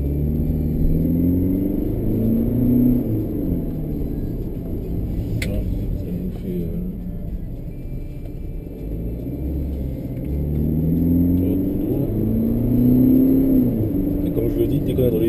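BMW X1 2.0d xDrive diesel engine pulling hard at high revs, a steady loud drone under in-car conversation, rising and swelling toward the end as it accelerates.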